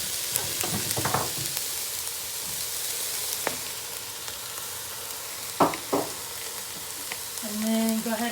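Beef sizzles and frying steadily in a pot for beef vegetable soup, a continuous crackle with a few louder clanks of stirring spread through, close and with no talk.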